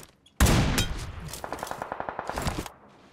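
Video game gunfire: a loud sudden blast followed by a rapid, evenly spaced burst of automatic shots, close and sharp, then stopping abruptly.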